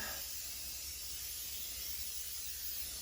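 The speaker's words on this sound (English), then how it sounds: "With this spray, sort of just spray it down pretty liberally." Steady, continuous hiss of stainless steel cleaner sprayed from an aerosol can, held down for a few seconds, close by and even in level.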